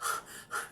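A person pants in a quick, faint pair of breathy exhalations, imitating the heavy breathing that follows yelling, close and soft with no speech around it.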